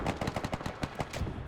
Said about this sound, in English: they should be protected against the fire of the machine guns